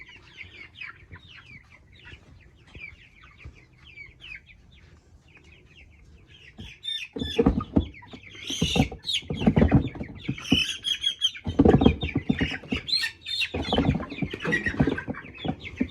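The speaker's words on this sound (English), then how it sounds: "We got all 25 meat chicks and Frida, the little baby chick." A flock of 25 meat chicks cheeps and clucks in their enclosure, soft peeping at first, then louder, busier clucking and chirping with rustling from about halfway.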